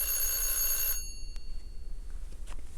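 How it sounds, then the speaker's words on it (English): A telephone rings with a bright electronic trill for about a second, then stops, leaving faint room noise and a few small clicks. "This phone is ringing off the hook."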